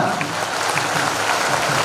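An audience claps steadily at a public event honouring a political leader, a dense and even burst of applause with no pauses, lasting the whole short moment.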